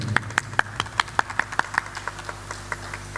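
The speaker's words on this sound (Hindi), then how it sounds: "ऑडियंस के लिए ज़ोरदार तालियां बजा दें।" Performers clap for the audience at an IIT Kanpur Independence Day celebration, a rhythmic series of sharp, evenly spaced claps in unison, loud and close, fading out.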